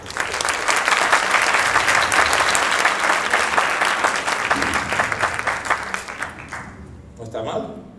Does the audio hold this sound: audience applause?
yes